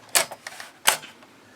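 Keystrokes on an Apple IIc computer keyboard, two sharp clacks with a few lighter clicks between them, close and alone in a quiet room.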